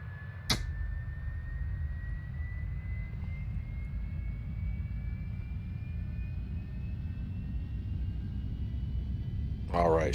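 Beechcraft Premier 1A business jet in X-Plane 11 spinning up on engine start, a steady low rumble with a faint rising whine that climbs slowly throughout, framed by brief clicks near the start and end.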